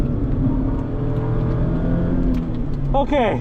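A Mazda MX-5 Miata ND2 engine holds a steady drone on a track, with a brief rising rev near the end and a voice talking over it.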